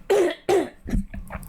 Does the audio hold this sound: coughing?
yes